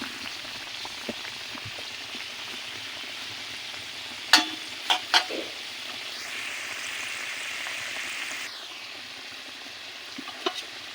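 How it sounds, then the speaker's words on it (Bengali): Potatoes frying in a pan give a soft, steady sizzle, broken by a few sharp clinks of stirring and a brief louder hiss midway. "আলুগুলো লাল লাল হয়ে এসেছে, আর একটু ভেজে নিব আমি।"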